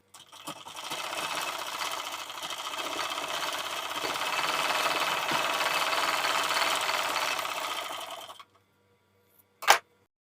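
Sewing machine stitching a strip of a blouse, a steady fast whirring run for about eight seconds that stops abruptly, followed by a brief sharp click.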